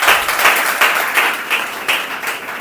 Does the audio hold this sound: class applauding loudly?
yes